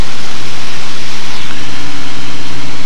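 An RV-7 aircraft engine runs steadily at 2,000 RPM during warm-up, a loud, dense, continuous roar held close and constant with no talk over it.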